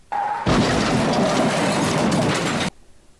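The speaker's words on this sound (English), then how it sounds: "crashing into walls in Minecraft iceboating" An ice boat in the Minecraft video game slams into a wall, giving a dense, loud rumbling clatter lasting about two seconds that cuts off abruptly, preceded by a brief tone.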